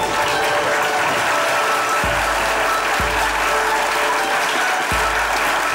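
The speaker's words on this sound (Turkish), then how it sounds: "Evet, çok önemli bizim için tabii bu alkış" A studio audience at a Turkish comedy sketch show applauds in a steady, loud roar of clapping, with a few low thumps underneath.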